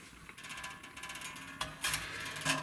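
Tuning pegs on a Fender Precision Bass turn to slacken the strings, giving quiet close ratcheting, clicking mechanical sounds with small creaks and a few sharper clicks, and no talk.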